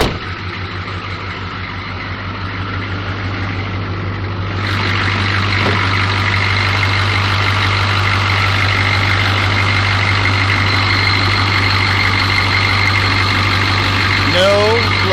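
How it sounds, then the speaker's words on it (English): A diesel engine fitted with Thrush welded mufflers idles with a steady, deep, even rumble close by, while a voice speaks faintly over it. "I put the thrush welded mufflers on here. They actually sound good."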